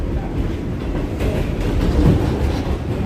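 A New York subway D line train running near Bay Parkway in Brooklyn, a loud, dense low rumble and rattle of railcars with faint clatter, steady and close throughout, no speech.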